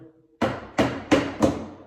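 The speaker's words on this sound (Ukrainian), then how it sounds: "Трошки подстукаем." Four sharp hammer taps strike at a steady rhythm while setting a D2 drill bit and pins, each hit ringing briefly before fading.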